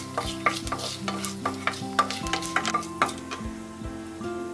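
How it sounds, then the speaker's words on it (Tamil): Cinnamon and cloves temper in hot oil as the base for a beetroot masala soup: a soft crackle under a quick run of metallic clinks and scrapes from stirring, close and fairly loud, with no voices. "இப்போ இந்த பட்டை கிராம்பு எல்லாத்தையும் நம்ம வந்து தாளிச்சிக்கலாம்"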